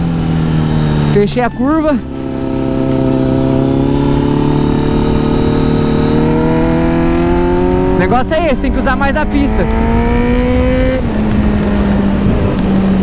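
A Kawasaki Z900 motorcycle revs hard on a race track, its engine pitch climbing steadily through the gears with brief shifts. A rider talks over the engine.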